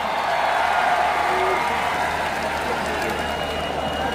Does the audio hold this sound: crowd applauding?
yes